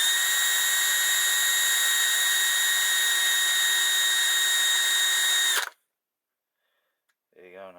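A high-pitched rotary sanding tool grinds steadily along the edge of a Queen Elizabeth II coin being made into a ring, a loud constant whine that cuts off abruptly, followed by silence and a brief voice.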